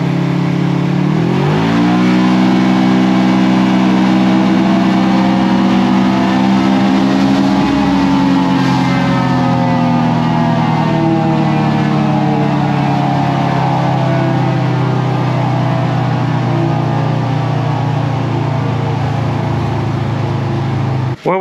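Stock Polaris RZR XP 1000 engine on a dyno, very loud and close, revving up in a rising pull over several seconds, then holding a sustained high-rpm roar for the rest of the run.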